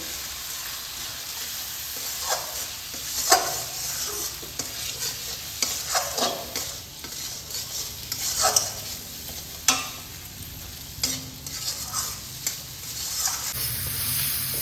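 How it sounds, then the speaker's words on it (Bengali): A small amount of oil sizzles softly as ground spices, Kashmiri chilli powder and salt among them, are stirred and scraped together in a pan, with spoon clatter at irregular intervals and no talking. "এবার এই মশলাগুলোকে আমি একসঙ্গে কষিয়ে নেব"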